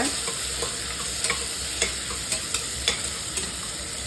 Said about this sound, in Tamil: வெங்காயம் கருவேப்பிலையும் சேர்த்துக்கிறேன். சேர்த்துட்டு நல்லா வதக்கி விட்டுக்கோங்க.